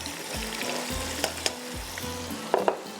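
Spices crackle in hot oil for a tarka, with a steady loud sizzle close up, low thumps of a spoon stirring the pan, and a few sharp pops and clinks near the end.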